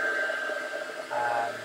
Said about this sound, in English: use the hairdryer again, just to gently warm the rubber